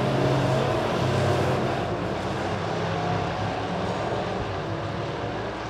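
Midwest modified race cars roar around Springfield Raceway in a loud, continuous engine drone, several cars blending into one sustained rumble on the final laps.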